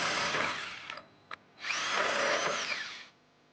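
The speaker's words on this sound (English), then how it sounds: "we're going to be using an 1 1/8" hole saw to create 2 access holes" A 1 1/8 inch hole saw bores an access hole through the body of a 2019 Jeep Renegade during a trailer hitch install, running in two loud, steady bursts of grinding whine with a brief click between them.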